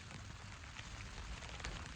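Rain patters on a camping tent on the Herring Road trail between Dunbar and Lauder, a dense, even hiss of drops with no break and no voices.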